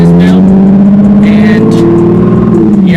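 A loud Nissan 370Z engine revs up close, its deep throaty drone rising and falling over a few seconds.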